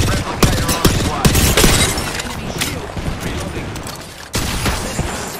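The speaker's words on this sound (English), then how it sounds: "Stand back, knuckle cluster's firing." Knuckle cluster ability firing in a video game: a rapid fusillade of sharp cracking bursts and shattering impacts, loud and close, easing off midway, then a second loud burst near the end.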